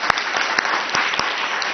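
Audience applause at a press conference announcing tobacco control efforts, a steady wash of clapping from a crowd with a few sharper individual claps standing out, continuous throughout.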